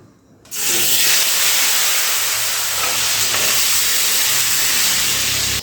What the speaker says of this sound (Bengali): আলুগুলো কিন্তু আমি খুব ভালো করে ভেজে নিয়েছি